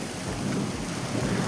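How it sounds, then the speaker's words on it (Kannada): Hail falling during a sudden storm outside a house, a dense, continuous roar of hard pellets striking surfaces, loud and steady, mixed with heavy rain and no voices. "ಆಲಿಕಲ್ಲು ಬೀಳ್ತಾ ಇರೋ ಸೌಂಡು."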